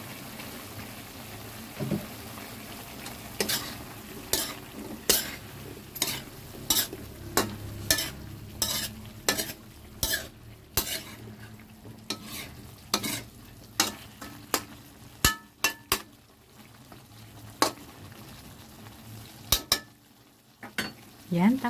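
Potatoes and carrots sizzle in a pan for a Bisaya ginamay dish, with repeated sharp spoon-on-metal clinks and scrapes from steady stirring over a continuous frying hiss, no voices.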